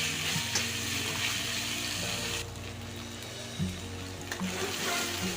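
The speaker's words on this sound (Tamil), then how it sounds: "நல்லா இஞ்சி பூண்டு பேஸ்ட்டு பச்சை வாசனை போகிற அளவுக்கு வதக்கினா போதும்." Ginger garlic paste sautéed in a pan while making restaurant-style chilli idli: a steady, close sizzle and frying hiss with faint stirring that runs without a break, and no talk.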